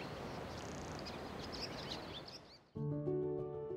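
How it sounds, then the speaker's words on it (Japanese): Morning birdsong with faint chirps over a steady wash of ocean waves along the coast, then the surf cuts out and a sustained tonal hum of music or a voice takes over near the end. "次は鳥たちの歌声と引き続き海が奏でる波音のショータイ"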